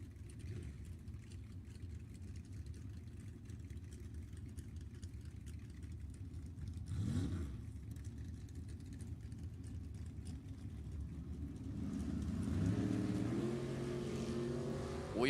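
Drag race cars, one a Chevrolet El Camino, rumble loudly at the line at a Sunday T&A Race Club meet. A short surge comes midway, then engines rise sharply in pitch and roar as they launch, with no talking.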